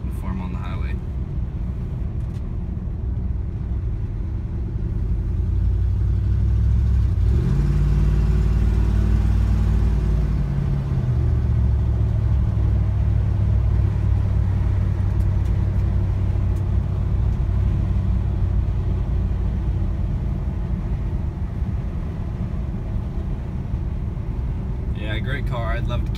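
A 1970 Lincoln Continental engine rumbles low and steady while driving, with a deeper surge partway through as it pulls along, continuous throughout.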